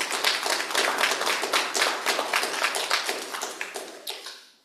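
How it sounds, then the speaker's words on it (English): A church congregation at a morning service applauds its young people, with close, sharp claps from many hands blending into lively applause that tapers off toward the end. "Want to give a round of applause for our young people as well for the way that they rendered service today."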